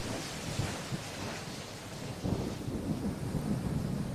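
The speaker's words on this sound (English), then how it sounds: "with all that rain that's pouring on the tracks right now" Steady heavy rain hisses throughout, pouring on railway tracks, with a low rumble of thunder swelling midway and rolling on to the end.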